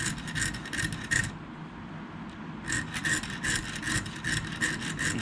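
Small micro files scrape quietly back and forth across the teeth of an old tool, making a run of short rasping strokes, a brief pause, then another steady series.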